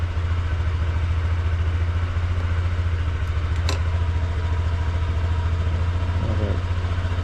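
A Honda Click 125i scooter runs on the road with a steady, close, low engine drone that stays even throughout, with no talk over it.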